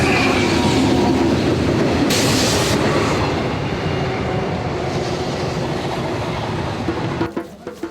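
Train running on rails on the way into Cape Town station, a steady loud rumble of wheels on track throughout, with a brief hiss partway and a few clatters as it eases near the end.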